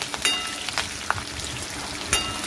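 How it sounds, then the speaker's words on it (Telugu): Curry leaves and green chillies frying in hot oil for a bitter gourd curry, a steady bright sizzle with scattered sharp pops and crackles, fairly close, with no voices. "సో పచ్చిమిర్చి కూడా వేసుకున్నాను. బాగా వేయించుకుందాము."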